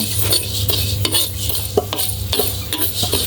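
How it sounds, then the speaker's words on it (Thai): Dry rice is stirred and roasted in a wok, with a steady low hum beneath repeated scraping strokes and light clinks of a utensil against the pan. "เอาข้าวลงไปในกระทะแล้วก็ คั่วให้มันเป็น"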